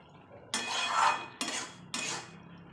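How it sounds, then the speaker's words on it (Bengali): Metal lid lifted off a pot of simmering red lentils and bottle gourd, three clattering clanks of metal on metal in quick succession, close and fairly loud with no talk. "ঢাকাটা খুলে দেখব,"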